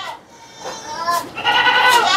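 A large 70 kg four-toothed male goat with pink skin bleats twice, a shorter wavering call followed by a longer strained one, loud and close, with some faint talk in the background.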